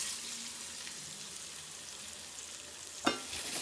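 Raw banana pieces frying in a pan of hot oil with garlic, a steady, faint sizzle running throughout, with one sharp clatter near the end as more pieces drop in.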